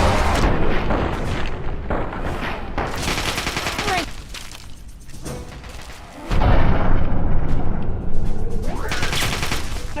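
Bursts of gunfire and booming shots in Fallout 3 as a second wave of mutants is fought off, loud rapid volleys with a short lull midway, then renewed heavy firing.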